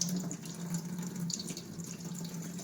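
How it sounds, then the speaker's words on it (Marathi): Wheat grains are washed in water, giving a soft, steady sloshing and trickling, quiet and close, with faint splashes and no speech. "स्वच्छ गहू धुवायचं"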